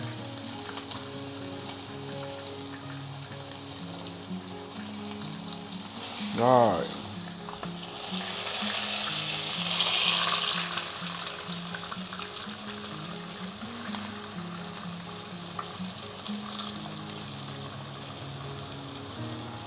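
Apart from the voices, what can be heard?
meat with skin frying in a pan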